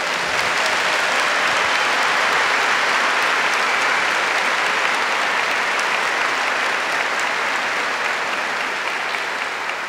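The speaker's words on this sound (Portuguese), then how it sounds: "Now you can clap." A large congregation at a priest's talk breaks into sustained, loud clapping, an even wash of many hands that continues unbroken for about ten seconds without any speech over it.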